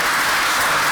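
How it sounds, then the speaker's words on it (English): Applause from a city council meeting audience, a steady, dense wash of clapping that stays loud and unbroken for the whole second. "How about a round of applause?"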